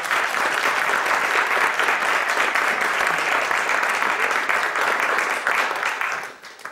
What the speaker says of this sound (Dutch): Dames en heren, graag een hartelijk applaus voor de heer Schaper